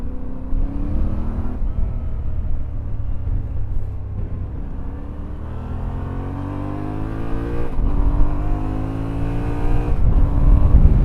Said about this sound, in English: Let's see how fast the Tenere is